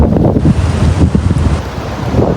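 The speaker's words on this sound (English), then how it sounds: "That's the Atlantic Ocean over there." Atlantic Ocean surf on a rainy Portugal coast, with a steady roar of waves and strong wind buffeting the microphone, loud and continuous with no voices.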